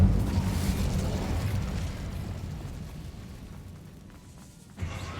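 Spell explosions blast through a Hogwarts Legacy fight, with a dense, loud booming rumble at the start that slowly thins out. A sharp burst lands near the end. No voices can be heard.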